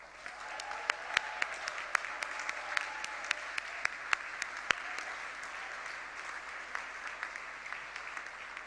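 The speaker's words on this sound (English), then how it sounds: "An applause also for you" A conference audience applauds in a large hall, with a steady wash of many hands and occasional sharper individual claps standing out, sustained at an even level throughout.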